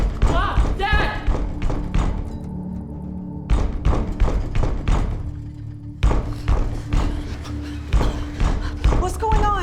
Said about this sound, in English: the thumping started. Banging on the roof